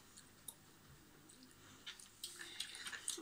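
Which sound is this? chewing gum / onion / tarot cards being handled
chewing gum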